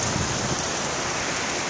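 Steady, loud rain during a thunderstorm pours down close by as a continuous broadband hiss, with no thunder claps standing out and no voices over it.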